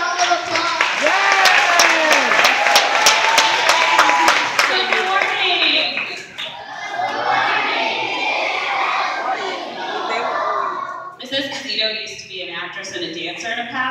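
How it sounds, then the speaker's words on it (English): A school audience applauds as Miss Esposito is welcomed. A burst of loud, close clapping with sharp individual claps gives way to crowd murmur and children's voices, then talking continues over the fading applause. "Let's give her a round of applause."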